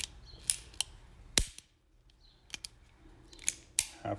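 An antique 1885 Hopkins & Allen .38 S&W top-break revolver hammer is drawn to half cock and full cock, giving a series of sharp, close metallic clicks separated by short pauses in an otherwise quiet room.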